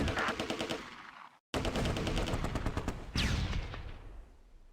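Heavy machine-gun and rifle fire from a World War II battle in the strategy game Close Combat: A Bridge Too Far, set during Operation Market Garden. It is a dense, continuous roar of rapid shots, with one brief drop to silence.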